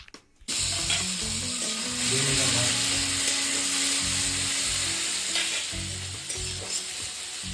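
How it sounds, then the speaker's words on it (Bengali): Tomato frying in hot oil for egg bhujia, a steady close sizzle starting abruptly and continuing throughout with occasional stirring scrapes, no voices. "এবারে টমেটোটা এভাবে ভেজে নেব"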